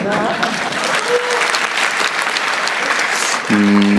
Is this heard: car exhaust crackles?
no